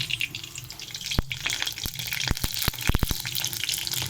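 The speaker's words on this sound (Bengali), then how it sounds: "সব আমি ভাজাগুলো বসিয়ে দিয়েছি, আর নেই, একবারে বসিয়ে দেওয়া হলো ভাজা" Sliced vegetables, including capsicum, fry together in a pan with a continuous hissing sizzle, broken by several sharp clicks and knocks from stirring.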